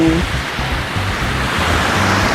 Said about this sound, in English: we've got the gorgeous ocean here